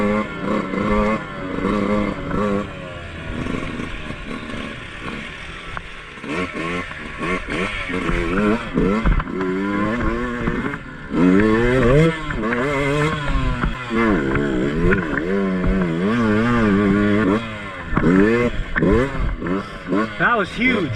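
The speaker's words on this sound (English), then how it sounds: "I'm in the parking lot here, just practicing some slow wheelies, figuring out how to get the balance point." Enduro dirt bike revving in a parking lot during slow wheelie practice, the engine note rising and falling in repeated bursts, loud and close, with people talking and shouting over it.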